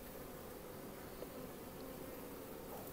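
Honey bees hum around a virgin queen bee held in a small cage, a dense, even buzz that stays close and steady throughout with a few faint higher whines, and no voices.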